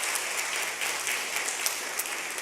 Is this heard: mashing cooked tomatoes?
no